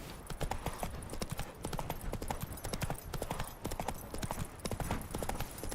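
Roach, a horse in The Witcher 3 video game, gallops in a quick, steady clip-clop of hoofbeats that stays close and even throughout, with no pauses.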